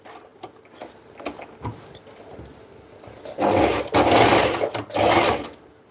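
A sewing machine backstitches at the end of a seam. Faint ticks and handling come first, then a short loud whirring burst with brief stops, close by.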